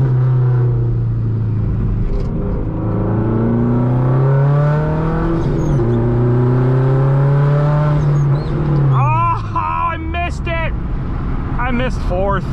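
Straight-piped Subaru STI engine revving hard from inside the car while driving, a loud, close harmonic drone rising and falling through the gears, with a brief voice near the end.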